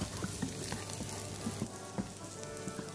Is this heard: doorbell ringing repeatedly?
no